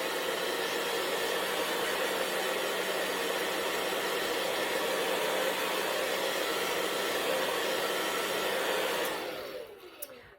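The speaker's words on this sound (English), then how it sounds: "So now I'm gonna hit this with a dryer again" A hair dryer blows steadily and close over chalk art for about nine seconds, a constant loud whooshing hiss that winds down and fades out at the end.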